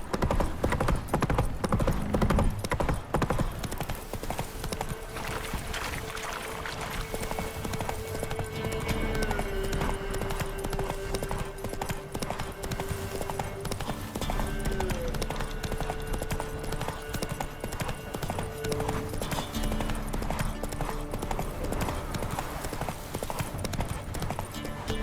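Roach, a horse in The Witcher 3, trots with a steady, loud rhythmic clip-clop of hooves that continues for the whole stretch over a low ambient backdrop.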